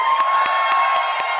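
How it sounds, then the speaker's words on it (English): An audience at a Prime Video event claps and cheers in a steady, loud crowd roar with a few sharper claps standing out. "I want to hear louder applause"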